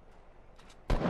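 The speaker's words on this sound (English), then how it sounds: "There's another team shooting at him" Gunfire in the video game Fortnite from another team, a faint burst of shots followed by a sudden loud close blast that carries on to the end.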